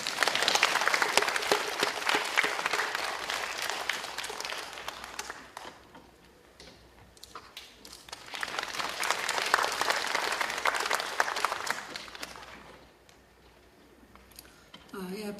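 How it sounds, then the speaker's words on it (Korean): An audience at a children's composition showcase concert in Gimhae claps in a dense burst, fades to a lull, then swells into a second full round of applause before dying away. "박수로 맞아주시기 바랍니다."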